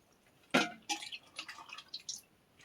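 Water drips and trickles off freshly washed eggplants, a sharp splash followed by a run of faint, irregular drops close by in a quiet kitchen.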